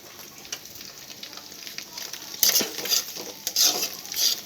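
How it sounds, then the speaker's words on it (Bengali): Carrot, capsicum, onion, cauliflower and long beans stirred into a pan with egg, a soft sizzle under repeated scraping and clattering of a spoon against the pan, close and uneven in bursts. "এখন সবজিগুলো দিয়ে দেবো এখানে গাজর ক্যাপসিকাম পেঁয়াজ ফুলি বরবটি"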